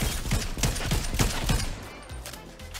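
Rapid bursts of gunfire from a battle-royale video game, several close volleys of shots in quick succession for about two seconds, then tapering into quieter scattered pops.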